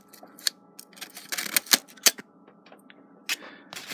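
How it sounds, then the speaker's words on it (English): A sharp knife snaps through steel leads in a series of crisp, close clicks and cracks, irregular and bright, with short pauses between cuts. "Cut through the leads."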